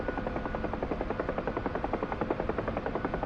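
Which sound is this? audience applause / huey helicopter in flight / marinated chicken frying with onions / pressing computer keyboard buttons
huey helicopter in flight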